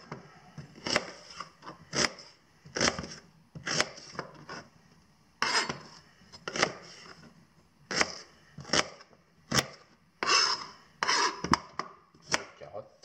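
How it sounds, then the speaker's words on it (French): A knife chops an onion on a cutting board in a series of crisp, close strikes in uneven bursts, each group separated by short pauses. "Couper notre oignon."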